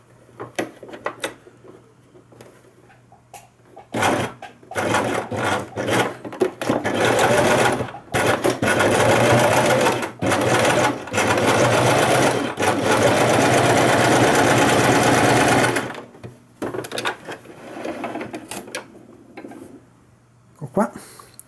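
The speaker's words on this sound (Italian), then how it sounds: "Cucitura con un punto dritto." A sewing machine runs a straight stitch across a fabric face mask, whirring loudly in long continuous bursts with short pauses, and faint handling noises before and after.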